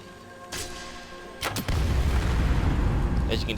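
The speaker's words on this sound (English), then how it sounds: "As you can see, it causes a explosion." Crimson Flame arrow exploding in Skyrim: a couple of sharp impacts followed by a loud, sustained booming explosion with a rumbling low roar.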